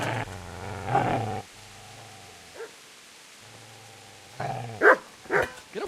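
A dog in the Kingdom Come: Deliverance video game growls and barks at the player, a low snarling rumble followed by a pause and then a few sharp close barks.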